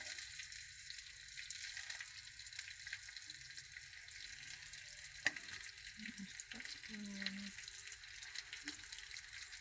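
Green chillies and onion frying in two spoons of oil in a pan, a faint, steady sizzle with a few soft clinks and stirring sounds.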